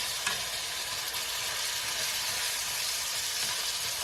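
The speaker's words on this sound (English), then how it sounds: "Now we're just going to go ahead and cook this ground beef" Ground beef sizzles in a hot pan with a steady, close, dense crackle and hiss that stays even throughout, with no talk over it.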